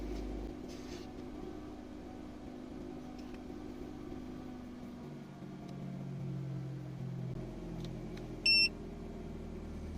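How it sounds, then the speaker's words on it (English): A car heads-up display chimes once with a short, bright electronic beep as it finishes calibrating, heard near the end over a steady low engine idle hum inside the car. "Now you heard that beep, that's saying it's calibrated."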